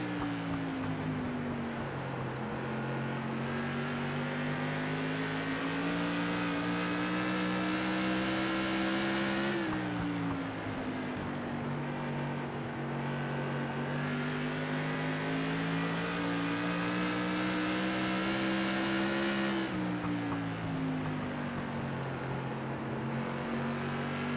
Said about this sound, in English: And just kind of listen to how he's working that throttle.